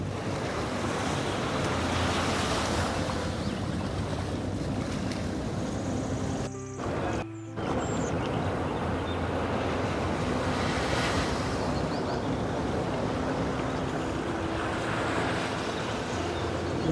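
Fast water surging against and eroding a shoreline during a cyclone, a steady loud roar of surf and wind with gusty buffeting, briefly cut out twice mid-way, no voices.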